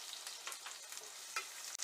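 Chopped onion sautés in oil with garlic and chilli, a constant soft sizzle overlaid by the scrape and clink of a spoon stirring the pan, close and fairly quiet.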